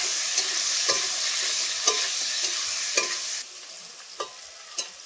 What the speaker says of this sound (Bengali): প্রথমে আলুগুলো আমি ভালো করে ভেজে নেব লবণ দিয়ে